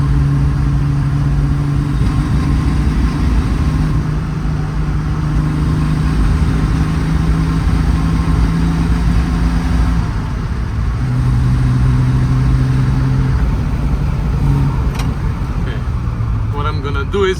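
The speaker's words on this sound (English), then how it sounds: "It's pinging a lot." A Triumph TR6 engine idles steadily up close with a continuous low drone, running with a fault and pinging, while a person talks over it.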